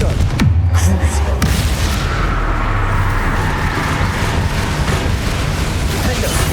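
Confringo blasting spell exploding in Hogwarts Legacy, a deep booming blast at the start with a rumbling roar that decays into sustained low-frequency debris noise, loud and close.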